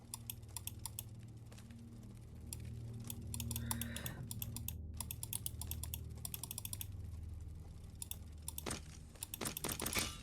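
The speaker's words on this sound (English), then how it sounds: "Sorry, I'm clicking now." Rapid mouse and keyboard clicks over gameplay of a slot-machine gambling game, with quick bursts of sharp clicking running throughout under game sounds.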